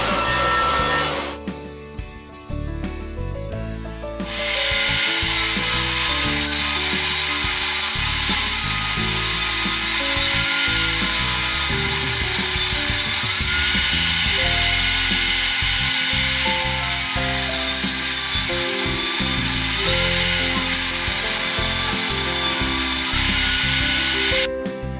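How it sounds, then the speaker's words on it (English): Wood strips being cut at a 45 degree angle with a power saw, likely a table saw, for an airbrush spray booth build. A brief start, then a loud, steady whining cut runs continuously for about twenty seconds, close by and with no talk. "And then I cut all the wood that required a 45 degree angle."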